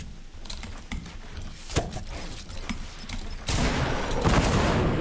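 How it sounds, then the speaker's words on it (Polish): Rapid bursts of gunfire crackle through a competitive video game match, dense and continuous, swelling louder in the final seconds. "We mnie strzela jeden."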